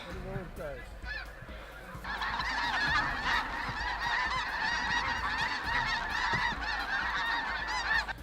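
A large flock of snow geese honks, a dense, continuous chorus of overlapping calls that starts sparse, then swells to a loud, busy clamor and stays that way.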